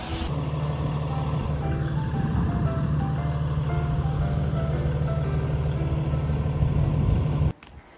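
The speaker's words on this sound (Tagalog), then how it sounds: "Yun na yung school bus." A school bus engine idles steadily at close range on a Canadian winter street, a continuous low rumble with a faint tonal hum that cuts off abruptly near the end.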